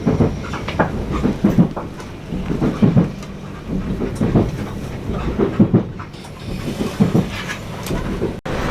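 A passenger train runs along its rails, rumbling loud and close with repeated rhythmic clacks and thumps over track joints, alone without speech.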